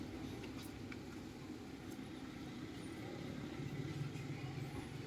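A car moves slowly along a road, its low steady engine rumble and tyre noise continuous and fairly distant, with no talking.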